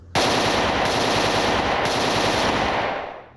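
AK-971 rifle in the game STALKER Anomaly firing one sustained full-auto burst of about three seconds, loud and close, with a fast even cadence that cuts off abruptly.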